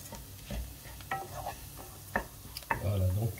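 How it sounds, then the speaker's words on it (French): Rice being stirred in a pan with vegetable broth and herbs, soft scraping and clinking strokes at an uneven pace over a faint sizzle, close but quiet, with a voice briefly at the end. "Et on continue à mélanger."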